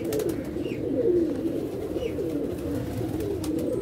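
Low, continuous pigeon cooing rolls on in overlapping phrases from a loft full of pigeons, close and even, with no one speaking.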